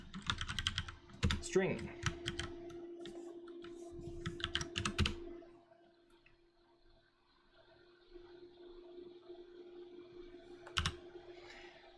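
Computer keyboard typing while coding a Rust game-programming project, with quick clicky keystroke bursts near the start and again around the middle, a steady hum underneath and brief speech between.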